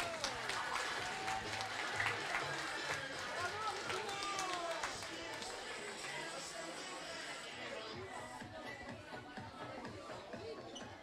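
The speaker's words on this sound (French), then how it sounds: "Un tonnerre d'applaudissements au collège Henri" A crowd of pupils and guests applauds a middle school at a class delegates' recognition day, with sustained clapping and cheering that fades slightly toward the end while chatter continues beneath.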